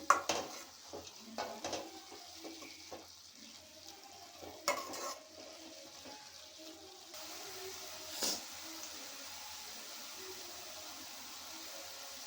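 Spinach fry (palak) is stirred in a pan just after the lid comes off. A few soft scrapes and utensil clinks come first, then a faint, quiet sizzle fills the rest.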